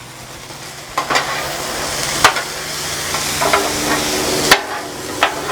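Peas and carrots for fried rice frying in a pan, a steady close sizzle broken by a few sharp stirring scrapes and clatters of a utensil against the pan.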